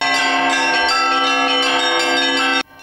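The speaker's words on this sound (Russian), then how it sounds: "особым украшением служит стоящая на земле звонница, колокола которой на солнце отливают золотом" Bells in a ground-standing open belfry ring with bright, sustained overlapping tones, struck in a quick irregular rhythm, loud and near, before the ringing cuts off abruptly near the end.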